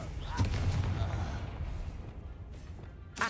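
Confringo, a blasting spell cast in the video game Hogwarts Legacy, gives a sharp burst followed by a rumbling boom and a second short crack near the end, heard under a player's voice.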